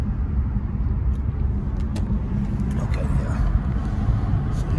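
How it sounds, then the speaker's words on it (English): A car rolls through heavy road traffic on a Monday afternoon, its engine and tyres making a loud, steady low rumble from inside the cabin while someone talks over it. "Man, this traffic is bad, man."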